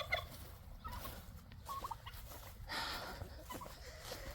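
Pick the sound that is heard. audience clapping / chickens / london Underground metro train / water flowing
chickens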